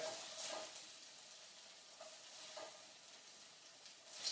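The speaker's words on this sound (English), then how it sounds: "Just give it a little stir to make it all submerged into the sauce" Beef meatballs simmer in sauce in a pan while being stirred, giving a soft, quiet bubbling and sizzle with faint scraping strokes, close and low, with no voices.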